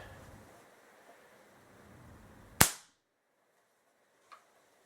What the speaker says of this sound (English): Manual cocking.